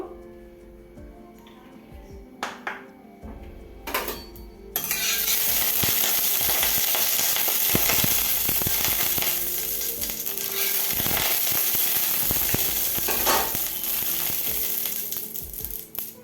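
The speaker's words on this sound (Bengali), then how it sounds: "একদম প্রথমে হচ্ছে পটলগুলোকে ভেজে নেব।" Pointed gourd (potol) fries in hot mustard oil in a heated kadai, with a few clinks before a sudden loud, continuous sizzle that holds steady to the end.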